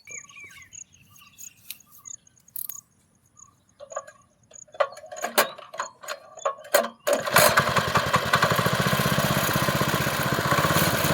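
A tractor engine starts up and drives off after a quiet stretch of faint chirps and clinks, then settles into a loud, steady, close-by chugging rumble that runs to the end.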